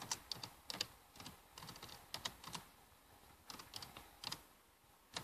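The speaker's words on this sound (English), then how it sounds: "You're typing it out and then you accidentally do the wrong letter." Fingers type on a computer keyboard while setting up Windows 7, quick irregular clusters of soft clicky keystrokes with short pauses, close and quiet, with no voices.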